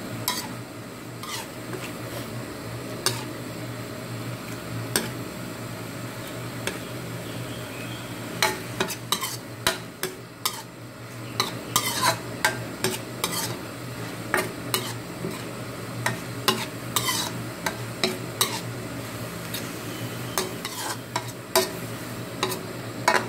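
Minced pork with holy basil stir-fried in a pan until the liquid dries: a continuous sizzle under repeated sharp clacks and scrapes of a spatula against the pan at an irregular pace, close by, with no talking.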